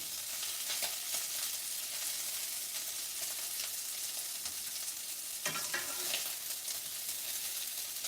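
Shrimp for a fried shrimp po' boy sizzles steadily in a hot pan, a dense continuous frying hiss with occasional stirring scrapes and pops, close and fairly loud with no talking.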